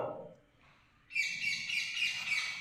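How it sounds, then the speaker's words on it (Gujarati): Common tailorbird at a bird sanctuary in Jamnagar, a brief soft sound followed by a loud, rapid series of sharp chirping notes that runs to the end. "આને દરજીડો કહેવાય"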